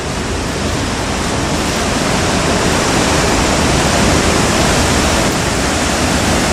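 Man-made waterfalls dating back to the 1840s in Belfast's Waterworks park send out a loud, close, unbroken rush of cascading water with no voices.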